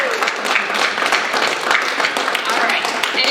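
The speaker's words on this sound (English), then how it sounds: "Seniors, give these people who are here a round of applause," Seniors at a National Honor Society induction ceremony clapping together, a short burst of dense applause from a gathered audience with voices mixed in.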